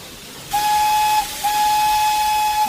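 A steam train's whistle sounds a sustained, bright tone that breaks briefly and then resumes, loud and fairly close, over a steady hiss of steam in the rail setting.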